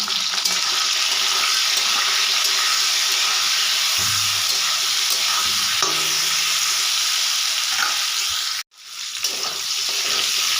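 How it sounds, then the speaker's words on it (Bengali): Cauliflower florets fry in hot oil in a pan with a loud, continuous sizzle, with a few stirring scrapes and a brief drop-out near the end. "ফুলকপি খুব সুন্দর করে ভেজে নিয়েছি, এবার তুলে নেব।"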